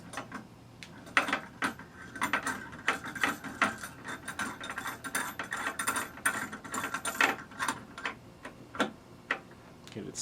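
A Dremel Moto-Saw table clamp being tightened, giving a close, steady run of irregular ratcheting clicks and small mechanical ticks with no talking.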